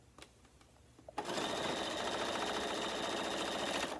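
Sewing machine stitching 8-patch quilt blocks onto an appliqué, starting after a second of faint handling clicks and then running as a steady, continuous whirring hum at close range.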